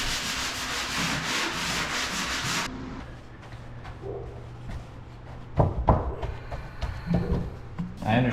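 Sanding a condo wall by hand, with rapid rhythmic rubbing strokes close up at first, then a quieter stretch of scattered scrapes and bumps as the work continues.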